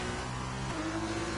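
F1 race car overtaking another in a racing video game, a continuous loud engine drone with a rising pitch shift partway through as one car pulls past, heard alone.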